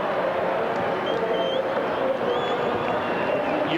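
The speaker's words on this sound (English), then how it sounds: "St Kilda fans celebrating their side victorious by 58 points" St Kilda fans celebrating a 1996 Ansett Cup Grand Final win over Carlton: a dense, steady roar of a large crowd with cheering and clapping, a few whistles cutting through, continuous and close.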